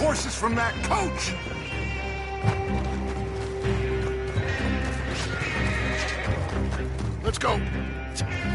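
Horses neighing in the video game Red Dead Redemption 2, several loud whinnies with clip-clopping hooves under game music and shouted voices.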